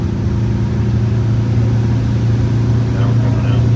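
A Wanderlodge bus with a Detroit Diesel 8V92TA turbo engine drones loud and close at a steady low pitch, holding near peak torque while driving. The deep hum carries on unbroken from inside the bus.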